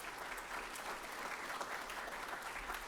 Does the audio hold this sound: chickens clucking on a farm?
no